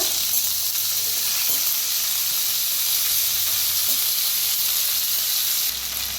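Chopped onion and spring onion fry steadily in hot oil with mustard seeds, cumin and a pinch of asafoetida, giving a loud, continuous close sizzle with no talking.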